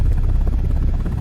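An attack helicopter in a video game roars steadily and loudly, its deep rotor thump pulsing in a continuous low drone with no voices.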